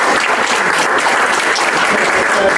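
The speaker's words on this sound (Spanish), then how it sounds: "Un aplauso, por favor." Steady, dense applause from an audience at a workshop event in Peru, continuous and fairly loud throughout with no talk over it.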